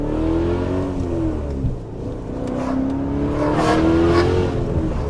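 A facelifted E39 BMW M5 in Alpine White revs and accelerates hard, its engine note climbing and dipping in pitch as it pulls, loud and close throughout with no one talking.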